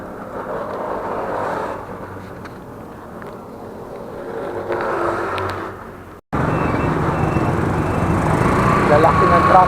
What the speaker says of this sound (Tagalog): Lalaki ng truck.